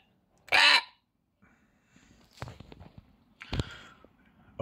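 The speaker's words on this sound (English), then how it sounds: "Three ravens." Two loud, harsh croaking calls from a bird, spaced a few seconds apart, with quieter rustling and faint background noise between them.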